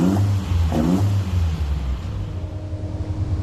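A lowered Suzuki Spacia's small engine blips twice in quick, close revs, then settles into a steady, low idle hum for the rest of the moment, with no talking.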